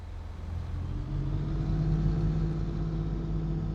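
A tractor engine in Farming Simulator 22 settling into a steady low rumble, the idle swelling slightly after the first second and holding an even drone throughout, with no talk over it.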